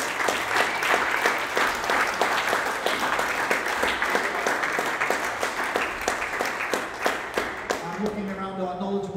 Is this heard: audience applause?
yes